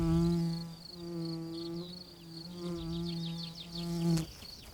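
Bees buzz close around flowers, a steady droning hum with pitch shifting as they move, alongside fainter chirping in the background and a brief sharp click near the end.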